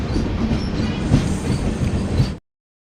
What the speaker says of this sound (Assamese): চাপৰমুখ জংচনৰ পৰা একদম 2 মিনিটৰ ব্যৱধানত ট্ৰেইন এৰিলে।